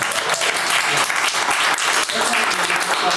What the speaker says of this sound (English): We gotta pause and give Adam a big round of applause.